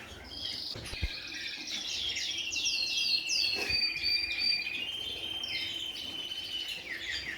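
Young lesser and mealy redpolls call inside a bird room, a steady stream of thin, high chirps and twittering trills layered over one another, close and continuous with no talking.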